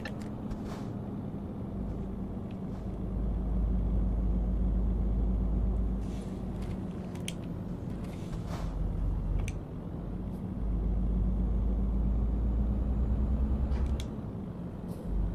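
Truck engine in Euro Truck Simulator 2 droning steadily as it climbs a slope, the rumble swelling and easing with gear changes, with occasional faint clicks over the continuous hum.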